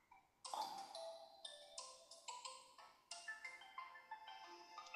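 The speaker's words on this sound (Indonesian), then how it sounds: "Suara telepon siapa?" A phone ringtone plays nearby, a bright melodic electronic tune of quick repeating notes that goes on steadily without talk.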